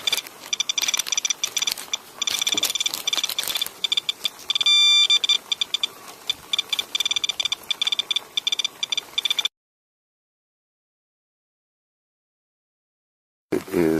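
Rapid electronic beeping chirps from a radiation meter held by a rain downspout in eastern Ontario, in irregular bursts for several seconds, then stops into silence before briefly starting again.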